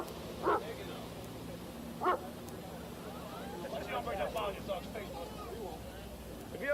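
A dog barks a few times at moderate distance, short separated yelps over a low background hum while people talk.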